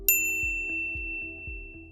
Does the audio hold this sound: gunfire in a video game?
no